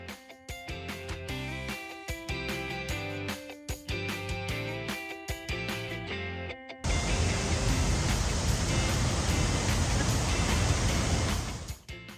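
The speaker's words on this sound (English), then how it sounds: "And it's kind of our first waterfall for today." Music plays at first, then gives way to the constant rushing roar of a waterfall near Munduk in Bali's central mountains, a steady dense wash of water with no talking.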